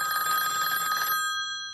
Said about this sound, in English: but phone's still ringing.